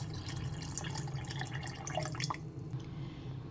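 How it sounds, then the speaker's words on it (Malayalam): Water trickles and splashes steadily into a container holding cumin powder for a summer drink, a continuous liquid pour with small drips, fairly close and unbroken by speech. "ആവശ്യത്തിന് കുറച്ച് വെള്ളം ഒഴിക്കുക."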